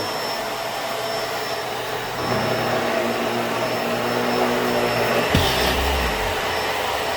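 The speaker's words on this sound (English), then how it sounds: "Not too loud either for a vacuum." A Bissell SurfaceSense Pet 2817 upright vacuum cleaner runs with a constant loud whine and roar; its motor pitch shifts partway through as it moves from hard floor to carpet, then a brief clunk and change in tone.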